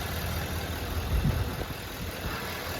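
The V8 engine of a 2024 Nissan Titan Pro-4X XD idles with its hood open, giving a steady low hum and rumble close by with a slight swell partway through.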